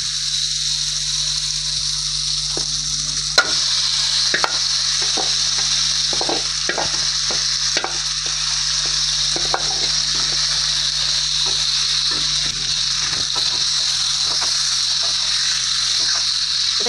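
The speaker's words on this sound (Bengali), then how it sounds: "এবার আমি যে মাংসটা মাখিয়ে রেখেছিলাম সেটাকে এবার মশলার মধ্যে দিয়ে দেব।" Marinated meat stirred into oil-released spice paste in a pan, a steady loud sizzle of frying with scattered scraping stir clicks throughout, no talking, for a fresh green chilli paste meat curry.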